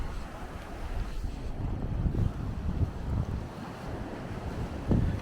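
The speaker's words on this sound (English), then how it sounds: "That wind's hitting pretty hard" Strong coastal wind buffets the microphone in a continuous loud roar, with low rumbling gusts and surf-like noise and no pauses.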